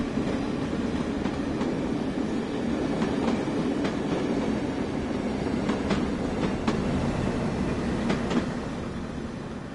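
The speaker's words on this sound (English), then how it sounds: "With the train now moving, use the throttle and the brakes" A train in the game Train Sim World 2020 rolls along steadily with a low rumble and intermittent clickety-clack of wheels over rail joints, the noise easing slightly at the end.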